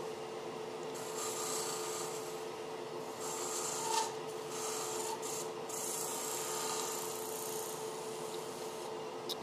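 A slightly dull woodturning gouge cuts a spinning workpiece on a lathe, a continuous rasping, scraping whir with a steady motor hum beneath and brief surges as the tool bites, close and without speech.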